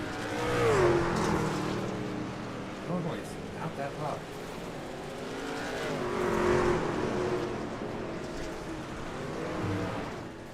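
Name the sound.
race car engine in a racing video game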